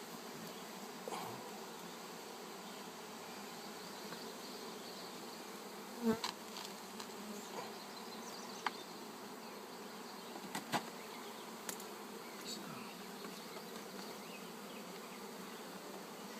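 Honey bees buzzing during the opening of a hive, a steady, full swarm drone heard up close throughout, with a few faint clicks and taps from the hive work and no talking.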